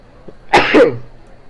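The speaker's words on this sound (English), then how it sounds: "sorry, I'm gonna sneeze." A single sharp sneeze bursts out close and loud, preceded by a faint intake of breath and trailing off quickly into a quiet room.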